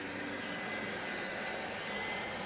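A Hoover self-propelled upright vacuum cleaner runs steadily, a close, continuous whooshing motor roar with a faint high whine and no breaks.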